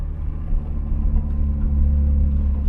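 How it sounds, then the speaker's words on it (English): A car engine hums steadily at low revs in a manual-gearbox car being driven with double clutching, a deep close rumble that rises slightly as the revs change. "We're just simply double clutching"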